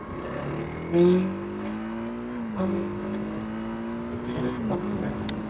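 TVS Apache RTX motorcycle pulling away in second gear, its engine note climbing steadily in pitch with brief surges between shifts, moderately loud and alone.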